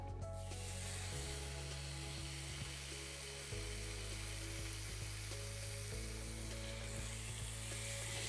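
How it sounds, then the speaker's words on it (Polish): Pork loin sizzles steadily on a very hot grill pan, a loud continuous frying hiss with a low hum underneath and no voices. "Układamy teraz na patelnię grillową, dość mocno rozgrzaną."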